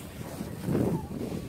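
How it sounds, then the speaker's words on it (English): Gusty wind buffeting the microphone during a snowstorm, a low rumbling roar that swells midway and then eases, with no voices. "it's so windy"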